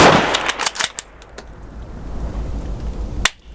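Sharp, close rifle reports from a French MAS-36 at an outdoor range, several crisp cracks early on and one more after a pause, with faint metallic clinks between.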